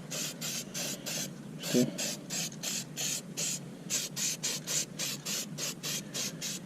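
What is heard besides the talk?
black paint being sprayed onto lawn mower deck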